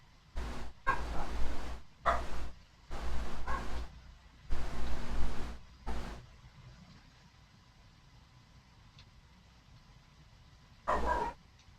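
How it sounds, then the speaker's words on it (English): Dogs barking indoors, a cluster of sharp loud barks in quick succession over several seconds, then quiet, then one more bark near the end. "My dogs were being bad."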